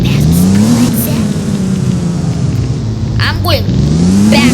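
A fast car in the video game Driving Empire drives with a loud, continuous engine drone whose pitch climbs and dips as it speeds, with a few short sharp accents near the end.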